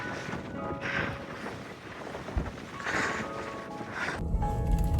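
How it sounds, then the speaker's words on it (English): Strong wind gusting outdoors on a blustery day, a steady broadband rush across the microphone that rises and falls in surges, with a louder buffeting swell near the end. "y'all hear this wind?"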